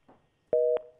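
Telephone busy signal after a dropped call line during a live broadcast call-in, a quiet murmur followed by three loud steady two-tone beeps in a regular rhythm, the last cut off.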